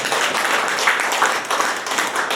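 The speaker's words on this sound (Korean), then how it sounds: "박수 한번 크게 치우시라고." Sustained applause from a lecture audience at an anti-corruption academy talk, a dense, continuous wash of many hands clapping at steady loudness throughout, with no speech over it.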